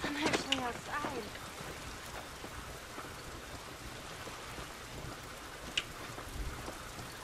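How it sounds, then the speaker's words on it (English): Steady rain falls in a video game's outdoor setting, a soft continuous hiss with occasional louder drops, while a voice speaks briefly near the start. "This rain ain't gonna do us any good."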